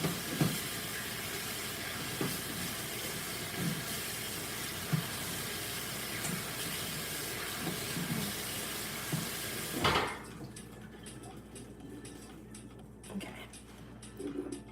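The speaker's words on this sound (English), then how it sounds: "We'll give them a rinse." Water runs from a tap as items are rinsed, a steady hissing stream with occasional clinks and splashes that stops sharply partway through, leaving a quieter room with faint knocks.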